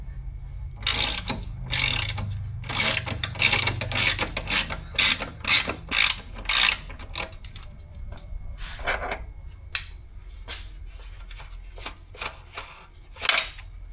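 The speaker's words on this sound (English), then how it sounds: "hold it with your wrench and spin it with your ratchet" Ratchet spinning off a 17mm nut on a Subaru Impreza front lower control arm bolt, a close series of rapid clicking bursts in uneven strokes, loud and alone.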